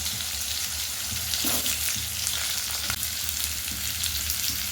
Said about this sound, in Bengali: শুকনো লঙ্কাটা লাল লাল হয়ে গেছে, এবার আমি এর মধ্যে আলু দিয়ে দিচ্ছি।